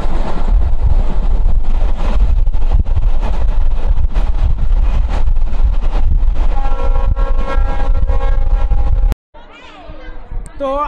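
A train rumbles loudly and continuously at Mohammadnagar railway station near Khulna, on the line to Mongla, then the sound cuts off abruptly and gives way to a fainter, different, tonal passage near the end.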